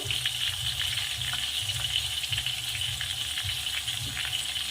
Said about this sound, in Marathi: आणि आता आपण वाटर ॲड करूया हे बघा झालं